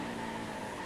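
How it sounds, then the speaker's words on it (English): A NASCAR race car brakes hard in a racing video game at Road America, steady engine roar with a faint tire squeal, no speech. "Hit the brakes."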